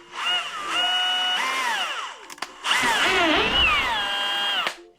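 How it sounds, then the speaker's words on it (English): An electric drill whines close by in two long bursts, its pitch climbing and dipping as it bites into wood, with a brief pause between. "When you drill, make sure, align it."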